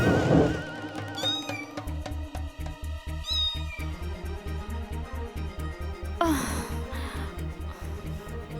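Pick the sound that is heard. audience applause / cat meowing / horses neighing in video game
cat meowing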